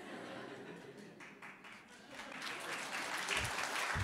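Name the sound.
audience applause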